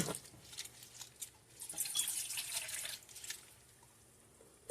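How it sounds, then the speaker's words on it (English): Water splashes and trickles as it is poured into a pot nearby, in a few uneven bursts before tapering off. "first off, we want to put in our water."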